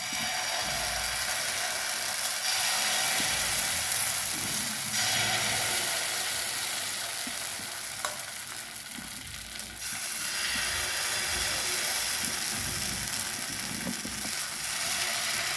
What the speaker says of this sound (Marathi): आपल्याला पळी उचलायची अशी आणि तव्यावर टाकायचं आहे। तवा गरम आहे आपला,